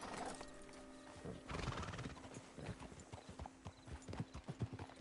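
Horse hooves and neighing in the video game Red Dead Redemption 2. A loud whinny opens, then clip-clop hoofbeats settle into an irregular walking rhythm, close and clear, with faint talk beneath.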